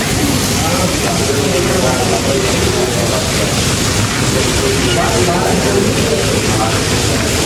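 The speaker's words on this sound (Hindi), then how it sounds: "शदीद किस्म की बारिश हो रही है" Heavy, pounding rain pours down outdoors in a dense, unbroken roar, loud and close throughout.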